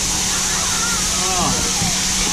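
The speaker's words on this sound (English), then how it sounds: "This is like high pressure shower." High-pressure hydro shower water spraying hard and continuously at a mud bath spa in Nha Trang, Vietnam, a loud close hiss with voices faintly audible underneath.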